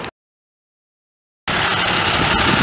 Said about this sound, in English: The wrecker has arrived. This is one heck of a long wheelbase wrecker.